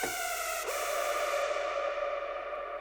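A sustained synth chord rings out with a long, washy reverb tail that keeps the sound hanging and spreading, with a brief shift partway through.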